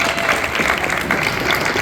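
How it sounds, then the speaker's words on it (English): Audience at a Muscle Car and Corvette Nationals young builders panel claps steadily for the guests, a dense, even round of applause filling the room with no talk over it. "let's give a round of applause for our guests up here."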